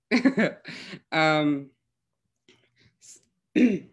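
A voice makes a short rough growl and a raspy throat-clearing sound as a throat singing technique, followed by silence, faint clicks and a brief vocal sound.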